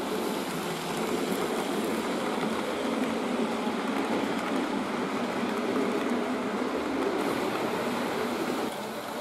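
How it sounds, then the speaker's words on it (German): A Fleischmann P10 model steam locomotive runs on its track, giving a soft, steady, quiet whirring rumble that holds evenly throughout with no talking. "Fleischmann typisch fährt die Lok natürlich sehr leise, sehr weich."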